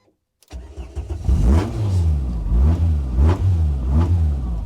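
A Renault Sport Spider's engine cranks and fires after a moment of silence, then revs up and down several times in repeated rising and falling blips, loud and close with no talk.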